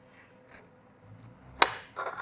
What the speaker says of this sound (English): And then we're going to go ahead and cut the top off.